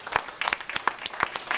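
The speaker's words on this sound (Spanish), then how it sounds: "denle un aplauso al Señor" Church congregation clapping in praise, quick rhythmic handclaps from a group at some distance, fairly faint.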